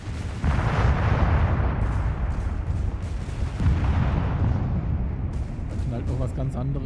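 In the World War II strategy game Company of Heroes 3, a Stuka dive-bomber air attack brings rolling, booming explosions and heavy rumble. The blasts continue loudly throughout while someone talks over them.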